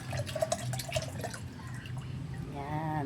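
Fresh young buko coconut water pouring out in a steady trickling, dripping stream, close and moderately loud, with a brighter filling tone toward the end.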